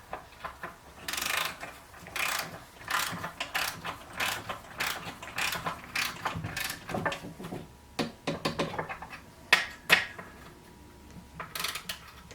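Repeated ratcheting clicks from a torque wrench tightening the output shaft bolts of a Ford C6 automatic transmission to 14 foot-pounds, in close, steady bursts with brief pauses between strokes.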